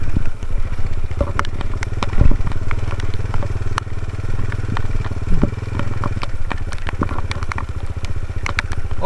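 A Suzuki Satria FU motorcycle rides off-road over wet grass in heavy rain, its engine a loud, steady close rumble with scattered clattering and crackling knocks.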